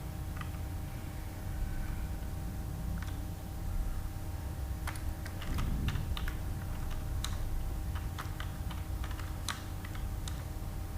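Code is typed on a computer keyboard, with soft scattered keystrokes that build into quicker bursts of clicks over a steady low room hum, fairly close but quiet.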